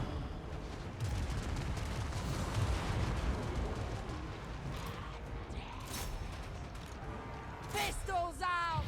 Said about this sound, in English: We've also got the Queen Bess firing over there